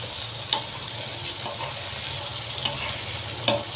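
Egg tomato curry frying in a pan with a steady close sizzle, broken by a few soft knocks of a spoon stirring through the mixture.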